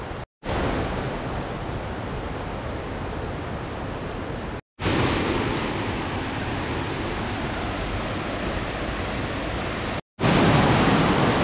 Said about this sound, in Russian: Тут недалеко есть еще один небольшой водопад.